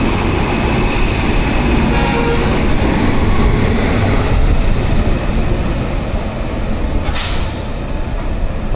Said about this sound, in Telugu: ఇదే ట్రైన్ అబ్బా.